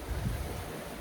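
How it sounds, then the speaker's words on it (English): Ocean waves wash against a rocky coast in Timor Leste on a bright day, a steady close rush of surf mixed with wind buffeting the microphone, with no voices. "just look at the ocean"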